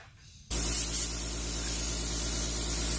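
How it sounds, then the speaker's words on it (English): Steady loud hiss of an airbrush spraying, starting abruptly after a brief quiet moment, with a low compressor hum running continuously underneath. "Now my airbrush may be a little loud, my compressor"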